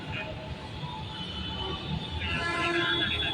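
A metro train approaching along the track at a station, a steady broadband rumble and rail noise that builds slightly louder toward the end, heard alone without talk.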